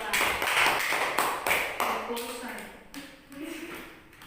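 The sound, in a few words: applause for group 2 in a classroom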